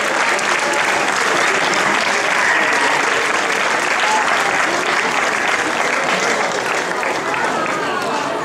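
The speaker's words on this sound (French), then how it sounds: "merci d'applaudir l'OGC Nice" Sustained crowd applause for runner-up OGC Nice at a youth football tournament prize ceremony, steady and dense clapping filling the whole stretch with a faint voice underneath.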